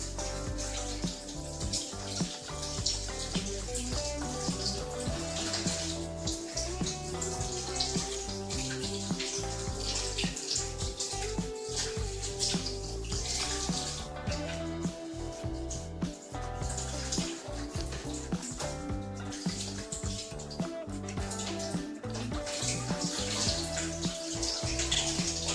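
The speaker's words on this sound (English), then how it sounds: "add water." Water pours steadily into a cooking pot while egusi soup is being made, a continuous splashing stream heard close and alone with no talk.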